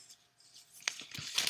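Scissors cutting through the side seam of a plastic bag, a few close snips and crinkles that grow louder toward the end, short and quiet.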